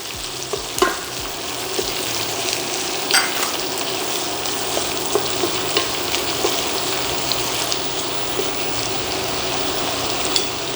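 Onions fry in two tablespoons of melted butter in a skillet, giving a steady, loud, close sizzle with occasional soft stirring clicks throughout, and no voices.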